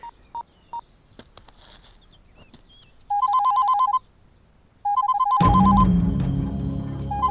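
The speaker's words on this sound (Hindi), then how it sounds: "इस वक्त स्वाति का फोन?" A landline telephone rings in a home, two short tone bursts followed by a longer electronic ringing pattern, loud and close, before a burst of louder mixed noise at the end.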